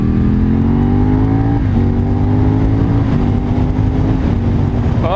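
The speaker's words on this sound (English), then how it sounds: "Oh, those upshifts are so smooth now." A motorcycle on country roads around Rutland accelerates hard, its loud engine drone climbing in pitch, then briefly dropping with each smooth upshift, repeated a couple of times.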